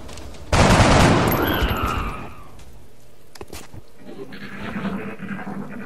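A burst of loud, rapid automatic gunfire erupts in a tactical alien-combat game, XCOM: Enemy Unknown, fading after about two seconds into sharp single cracks and a lower, rumbling game ambience.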